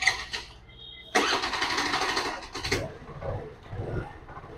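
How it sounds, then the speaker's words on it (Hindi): A Hero Maestro scooter engine with a faulty, noisy gearbox cranks and catches, then runs on with a steady, slightly uneven idle rumble, close by and fairly loud. "स्कूटी को हम लोग स्टार्ट करेंगे"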